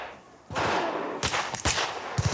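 Gunfire cracks out in a New Zealand military recruit training firefight, with a sustained burst followed by several sharp, loud individual shots close by.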